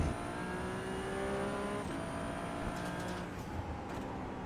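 Ferrari 296 Challenge race car engine in the iRacing sim at Watkins Glen, droning loud and steady with harmonic whine, then dipping as it downshifts to third gear before pulling back up, no talk over it.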